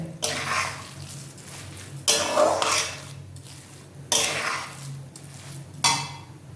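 A coconut mixture for nadu stirred in a pan, repeated scraping sweeps of a spoon across the metal in bursts roughly every two seconds, close and fairly loud with no talking.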